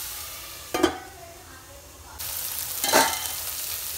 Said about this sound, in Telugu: ఆయిల్ చాలా తక్కువ వేసుకొని చూస్ చేసుకోవాలి. ఇది కొద్దిగా ఫ్రై కావాలండి.